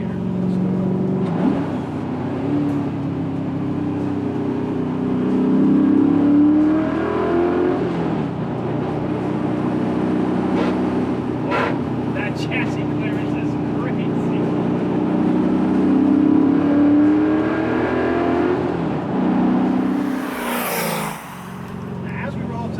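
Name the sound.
1969 Camaro RS/SS LS427 engine while driving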